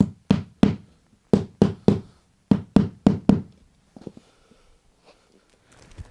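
A part is whacked into an arcade bartop cabinet with about ten sharp, close knocks in quick bursts, followed by quieter rattling and handling noises.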